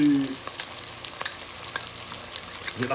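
Ginger, chili and garlic frying with onion for a lamb chop massalé, a low crackling sizzle with scattered pops and faint stirring scrapes, close by and with no talk.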